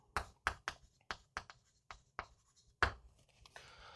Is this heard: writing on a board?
yes